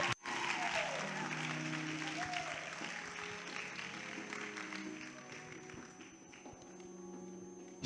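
A church congregation applauds in praise of the Lord, dense clapping that starts abruptly and gradually thins, with voices and cheering mixed in across the room.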